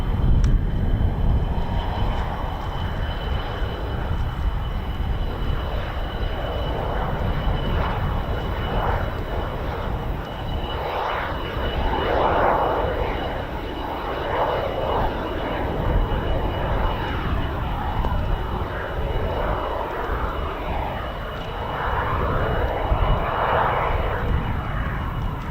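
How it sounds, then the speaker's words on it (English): A GAF 17 aircraft arriving at RAF Fairford, its engine droning loudly and steadily with swelling waves of roar as it passes, heard alone without talk. "Nice, a new one for the list of aircraft I've never seen before. The GAF 17."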